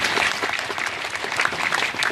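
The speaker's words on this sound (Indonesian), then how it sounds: "Tepuk tangan dulu." An audience at a halal bihalal religious talk held at a police station claps together, a short burst of dense applause with a few individual claps standing out.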